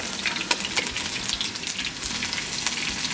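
Chicken pieces browning in hot frying oil for Christmas rice, a steady dense sizzle with crackling pops running throughout, close and fairly loud, with no talking.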